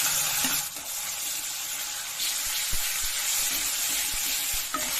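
Onion and ginger-garlic paste frying in a pan for chana dal tadka, a steady loud sizzle with occasional stirring scrapes and knocks, no voices.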